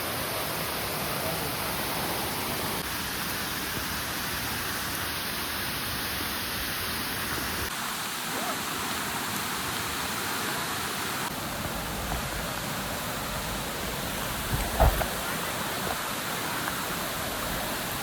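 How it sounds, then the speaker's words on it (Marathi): Steady rushing water from a waterfall in a village forest, a continuous broadband roar with little change, alone and fairly even throughout, with a brief faint knock near the end. "हा असा धबधबा करतोय"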